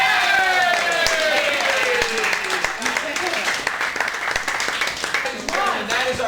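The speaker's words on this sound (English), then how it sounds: "keep the applause going for Steve" A live improv show crowd claps and cheers loudly for several seconds, a dense wash of applause while a melodic musical sting plays over it and fades near the end.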